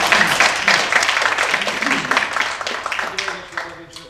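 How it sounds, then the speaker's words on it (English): An indoor audience claps steadily for a speaker, a dense, even applause that fades slightly toward the end while a voice talks underneath. "can I just invite you to the grand applause for our speaker"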